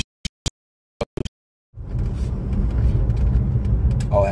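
A new Ferrari sports car on the move, preceded by a few sharp isolated clicks, then a loud, close, low engine rumble that swells and holds steady as the car pulls away.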